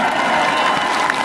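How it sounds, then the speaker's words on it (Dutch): Audience applause at a Glamour health challenge event, a brief loud burst of clapping mixed with crowd cheering, continuous and close throughout. "Ik wil een enorm applaus voor Anke de Jong van Glamour!"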